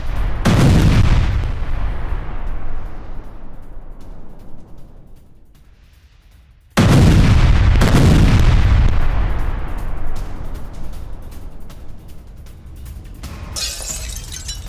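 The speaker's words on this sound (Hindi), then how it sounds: "मेर्रोहराद इलाके में रूस की बमबारी" Russian bombardment in a Ukrainian town: two heavy, loud booming blasts several seconds apart, each followed by a long rumbling decay, with crackling debris near the end.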